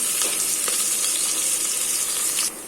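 Mustard seeds and small shallots sautéing in a pan for greens, a bright steady sizzle with a few stirring scrapes, dropping quieter near the end.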